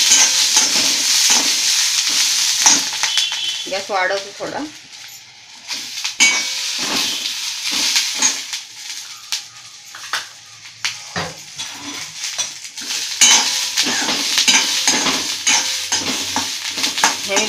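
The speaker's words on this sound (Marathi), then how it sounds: "हे मी भाजून घेते चांगले 1-2 मिनिट हलवून मिरची" Green chillies sizzle and fry in a little oil while a spoon stirs and scrapes them around the pan, a steady hiss with repeated stirring clinks, and a voice says a few words partway through.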